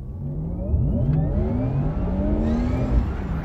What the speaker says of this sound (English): we are just going slow right now. You can hear a little bit of a whir. It's kind of like a Jetsons type of sound.